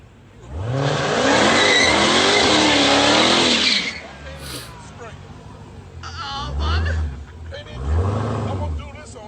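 A front-wheel-drive family car burning rubber, its engine revving hard with tires squealing for several seconds, then dropping off into a few shorter revving bursts, close and loud.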